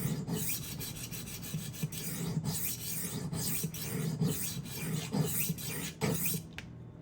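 A knife edge is ground on a diamond rolling sharpener with close, steady rasping strokes. The scraping rhythm repeats about once or twice a second, and no one speaks.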